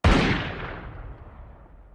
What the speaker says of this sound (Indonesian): suara tembakan itu membuat Rosie penasaran